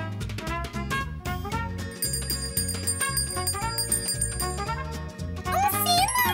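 A bright bell rings amid a busy musical backdrop with melodic tones, ending in a cluster of high chiming notes.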